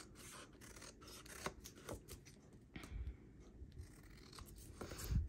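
Scissors trim paper for a handmade owl card, giving a few quiet, close snips and soft rustles spaced irregularly over a faint background.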